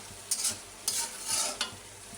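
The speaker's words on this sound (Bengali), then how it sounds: "নানি এখানেই ভেজে নেবে ভালো করে" Several kinds of dried fish (shutki) and saheb kochu taro fry in a pan under a soft sizzle, broken by three quick, distinct stirring scrapes at a loose, uneven pace, with no talking.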